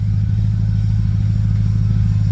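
A 2006 Pontiac GTO with a 6.0-litre LS2 V8 and six-speed manual idles steadily and loudly up close, a deep continuous rumble with no talk over it.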